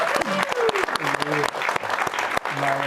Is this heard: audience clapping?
yes